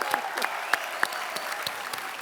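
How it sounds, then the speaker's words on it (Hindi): Studio audience at a Hindi comedy talk show breaks into loud applause, with steady clapping and a few sharper claps standing out, and no talk over it. "डॉक्टर साहब के लिए जोरदार तालियां"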